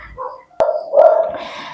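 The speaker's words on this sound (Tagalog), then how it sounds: "pasensya sa ingay ng aso" A dog barks indoors, one sharp loud bark followed by a short whimpering yip and a fainter trailing bark.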